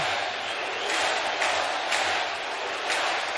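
A large Saturday night crowd of over 26,000 at a Reds–Mets baseball game in 2021 fills the stadium with a continuous roar, swelling and easing in waves.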